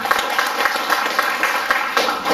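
A church congregation applauds during a worship service, a dense, loud burst of many hands clapping steadily throughout, with voices mixed in.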